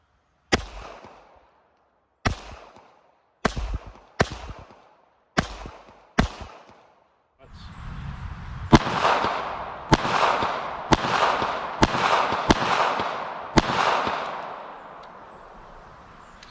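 Pistol shots from a .380 subcompact handgun at a shooting range: six sharp, evenly spaced reports ring out alone, followed by a rapid string of seven more shots over a louder background of other shooters.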